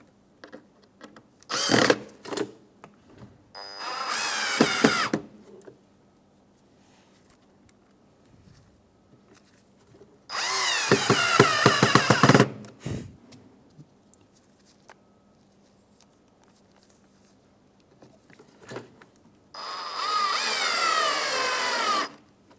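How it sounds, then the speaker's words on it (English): A power screwdriver driving three Phillips screws back into a 2007-2013 Acura MDX headlight module: three separate whirring bursts of a few seconds each, close and fairly loud, with quiet handling clicks between them. "put it in position, and reinstall our 3 Phillips screws."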